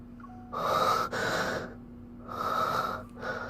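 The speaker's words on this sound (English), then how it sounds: "The breathing, man, the breathing." Heavy, rasping breaths come in two long in-out cycles, close and loud, with short quiet pauses between them and a steady faint hum underneath.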